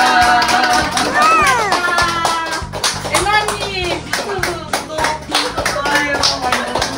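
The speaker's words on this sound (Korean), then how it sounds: "박수 준비." A small group of people applauds, with bursts of handclaps mixed with excited voices and children's speech, the clapping coming in uneven waves close by.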